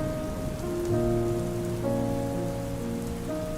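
Gentle rain falls steadily at night, a soft continuous patter blended beneath sustained, mellow musical tones that swell and shift throughout.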